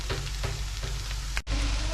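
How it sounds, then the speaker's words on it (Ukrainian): Mushrooms with onion and butter sizzle and fry steadily in a pan, a close, even crackle with no voices. "Вони ще піджарюються хвилин 5, 7, 8 і потім будемо додавати сметанку."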